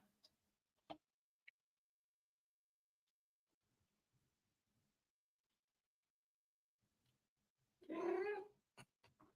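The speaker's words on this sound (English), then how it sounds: "The cat has entered the conversation." A cat gives one loud, drawn-out meow near the end, preceded by a few faint ticks and soft clicks in an otherwise quiet room.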